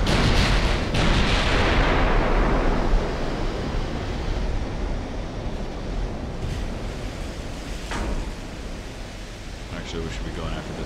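Battleship turret gunfire in the naval game Ultimate Admiral: Dreadnoughts, a heavy booming blast at the start that decays into a long rumbling roar, followed by fainter distant shots.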